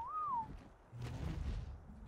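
A single short rising-and-falling whistle given as a stop command to creatures in the ARK: Extinction video game, followed by a soft low thud and faint game ambience.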